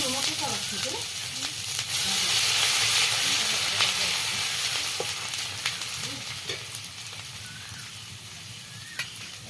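Chopped ginger sizzling in hot oil, a steady close hiss and crackle with occasional stirring scrapes, loud at first and easing slightly toward the end.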